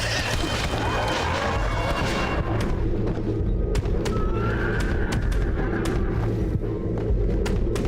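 A horse whinnies in Red Dead Redemption: Undead Nightmare, a loud, close neigh over dense, constant game noise with hoofbeats and sharp cracks.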